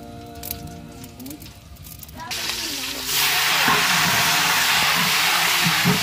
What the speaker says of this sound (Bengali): দারচিনি, এলাচি, তেজপাতা এখন ঘুটা ঘুটা করা হচ্ছে